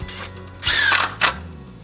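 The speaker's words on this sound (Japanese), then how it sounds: "確認が取れたら柱に対してネタをネジで留めていきます。" A power drill drives screws into a wooden deck post in short bursts: a rising whine that lasts about half a second, then a second brief burst, with a low motor hum between them.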